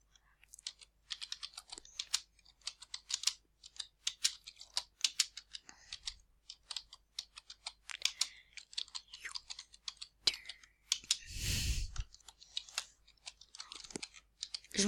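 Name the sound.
typing a status on a computer keyboard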